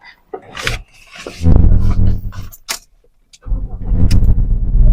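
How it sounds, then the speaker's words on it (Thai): A 2012 Mazda BT-50 four-door pickup truck with about 180,000 km starts: a few clicks and clunks of handling, then the engine cranks briefly, catches and settles into a loud close idle. "มาเดี๋ยวผมพาพาฟังเสียงเครื่องนะ เดี๋ยวสตาร์ทให้ฟังเลย"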